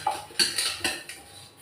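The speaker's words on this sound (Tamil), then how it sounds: "ஆக கழுவிக்கிட்டே இருக்க வேண்டியது தான் பாத்திரத்தை." Dishes, pots and utensils clatter during washing in a home kitchen, with four or five sharp metallic clinks and knocks spaced irregularly, close and fairly loud with no talking.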